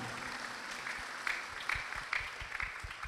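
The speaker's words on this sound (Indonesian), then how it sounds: "Tepuk tangannya mana?" An audience at a Quran graduation ceremony claps, a soft, distant smatter of applause with a handful of slightly louder individual claps standing out toward the end.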